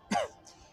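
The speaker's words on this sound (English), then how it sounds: "cleared his throat" A man clears his throat once with a short, soft cough, brief and fairly quiet.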